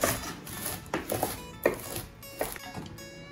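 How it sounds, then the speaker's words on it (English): Knife chopping kale and cabbage for coleslaw on a board, a series of sharp, irregular cuts spaced unevenly at moderate loudness, with no voices. "I'm chopping some kale that we're going to put with it to make our coleslaw"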